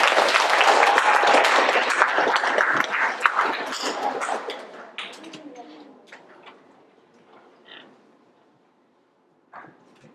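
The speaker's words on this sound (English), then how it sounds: "Y'all would please give Pastor Frank a round of applause for coming out" An audience at a school Beta Club induction clapping to welcome a pastor, loud at first then thinning and fading out after about five seconds, with scattered voices and a few late claps.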